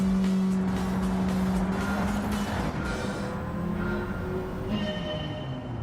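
A race car engine in the video game Gran Turismo 7 drones steadily with rising and falling pitch as it shifts, a constant loud roar with a brief tire-like squeal.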